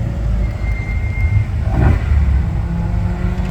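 A car approaching on a road in Poland, its engine rumble swelling briefly as it passes close by midway, over a steady low outdoor background without speech.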